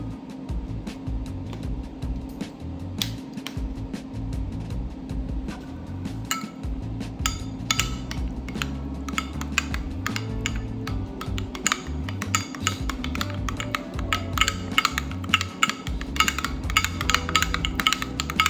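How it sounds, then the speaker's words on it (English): A spoon clinks and scrapes against a bowl in steady, busy taps while stirring a buttermilk marinade for chicken wings, growing livelier over a low background hum. "All you're gonna do is get this nice and stirred up"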